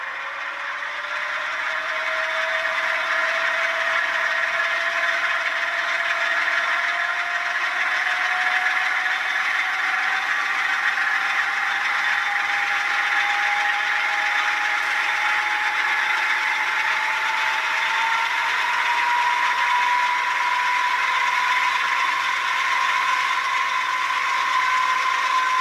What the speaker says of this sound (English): Also hear the prime mover notching up since we didn't cover that.